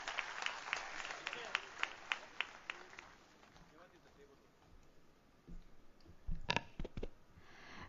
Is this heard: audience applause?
yes